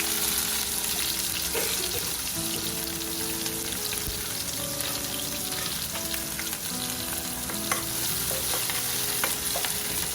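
Cumin seeds and chopped spring onions frying in hot oil, a loud continuous close sizzle with clinks and scrapes of stirring throughout, no speech.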